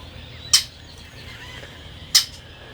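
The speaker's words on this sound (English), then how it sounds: "Red-winged blackbirds are not too happy that I'm out here today." Two sharp, high bird calls ring out about a second and a half apart, from red-winged blackbirds outdoors, over a quiet low background rumble.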